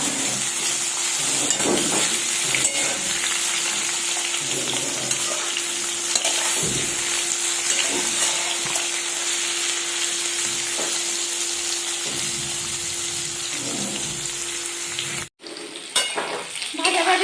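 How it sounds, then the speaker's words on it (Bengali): Unripe jackfruit pieces frying in hot oil make a steady, close sizzle with occasional stirring scrapes, running nearly the whole time before a brief dip and rougher clatter near the end. "এরপর এই তেলের মধ্যে আমি দিয়ে দিলাম এরপর এঁচড়গুলোও হালকা ভাজতে হবে"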